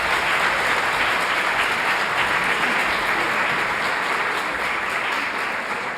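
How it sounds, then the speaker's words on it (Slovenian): A concert audience in a hall claps steadily for the jury at a choir festival, a sustained, even wash of many hands that stays loud and unbroken throughout. "En aplavz za našo žirijo."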